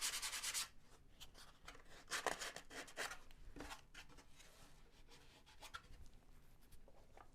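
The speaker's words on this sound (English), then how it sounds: "So we'll sand down a little bit." Sandpaper rubbing back and forth on the fuselage of a Carl Goldberg Ultimate 10-300 model biplane, close and fairly quiet, in irregular scratchy strokes with short pauses between them.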